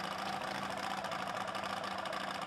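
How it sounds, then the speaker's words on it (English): A racing motorcycle engine idles at an AMRA drag racing finals event, a steady rough mechanical rumble with a fast pulsing texture, continuous and fairly close. "This thing even sounds different than any kind of motorcycle you've ever seen."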